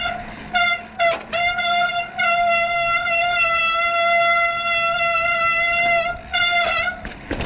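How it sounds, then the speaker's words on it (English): Bicycle brake squealing loudly during a descent on a mountain bike trail, a piercing sustained whine broken by a few short gaps as the brake is released and reapplied. "loud ass brake."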